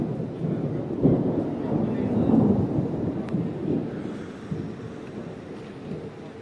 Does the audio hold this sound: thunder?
yes